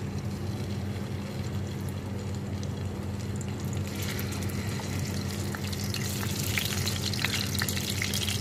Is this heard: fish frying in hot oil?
yes